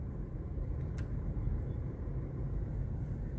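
Heavy road traffic on an expressway beside the airport, a steady low rumble of many engines and tyres close by with one brief sharp click, no talk.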